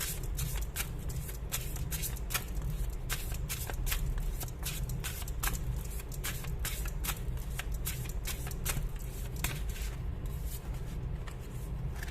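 Tarot cards riffled and shuffled by hand, producing a steady stream of sharp, close flicking snaps at a brisk, fairly regular rhythm, moderately quiet with no voice over them.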